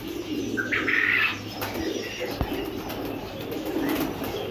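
Pigeons of several breeds, including Teddy and golden birds, coo in a breeding loft, with soft chirps and a brief wing flutter sounding close against steady ambient noise.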